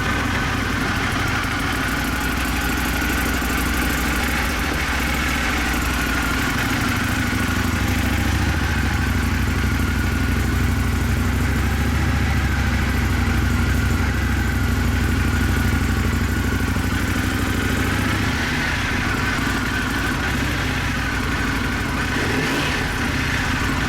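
A Triumph FTR1200S motorcycle on its stock exhaust runs steadily, a low throaty exhaust rumble that revs up and settles back near the microphone, with no talking.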